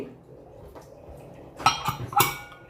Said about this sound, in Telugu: ఇప్పుడు కుక్కర్ మీద లిడ్తో క్లోజ్ చేసేసి